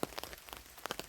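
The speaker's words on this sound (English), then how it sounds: "It's raining." Rain patters steadily on a bivvy camp on Deer Hill during a warm thunderstorm, with close, soft droplet taps spread across a short stretch and no voices.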